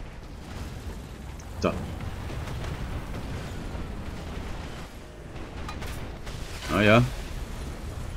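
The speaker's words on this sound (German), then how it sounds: "Schau dir die scheiß Artillerie an hier." Artillery shells exploding during a War Thunder tank battle with a Type 97 Chi-Ha, two sharp booms standing out, one near 1.6 s and a heavier blast near 7 s, over steady battle noise with brief speech.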